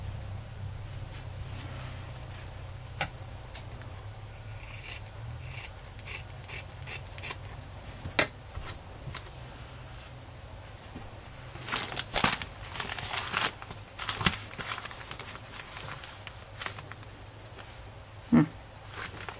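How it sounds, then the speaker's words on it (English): Scissors trim the folded edge of a crinkly Amazon mailer envelope being turned into a journal cover, giving quiet snips mixed with soft crinkling and rustling, close up with no talking. "I'm going to fold it and trim a little bit off of that edge."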